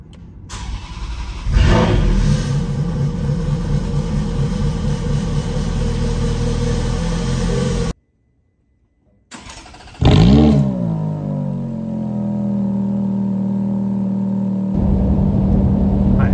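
A Ferrari's engine cranks and fires, revs loudly, and then settles into a steady idle, with a brief silent gap partway through and a second loud start and rev afterwards.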